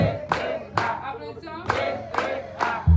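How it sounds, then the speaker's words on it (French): A gathering at a wake-night service claps in unison, with five or six sharp, evenly spaced group claps. Voices can be heard faintly between the beats. "Applaudissons."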